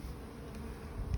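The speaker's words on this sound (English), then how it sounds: "The bees herd them up" Honeybees swarm at an opened beehive while small hive beetles are being dealt with, making a dense, steady droning buzz close by throughout.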